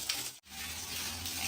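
Water splashes steadily over someone's head during a bath, a close, continuous rushing wash with one sharp break partway through.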